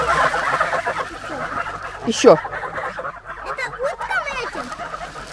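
Chickens and geese at feeding time in a farmyard cluck and honk close by, with a loud honk partway through and bubbling calls later, while people talk briefly.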